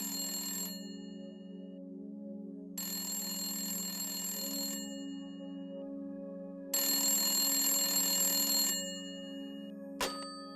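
A telephone rings three times in long bursts separated by pauses, loud and close, over a steady low background tone, followed by a sharp click at the end.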